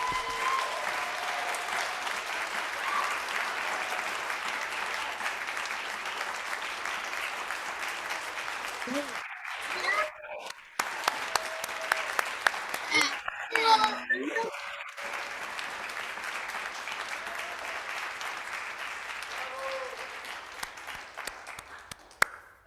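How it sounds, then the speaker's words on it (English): A congregation gives a minister a long round of applause in a church service, dense clapping with brief dips and a few voices and children heard over it before it fades out. "I invite you into just a raucous round of applause for Reverend Leah and her ministry."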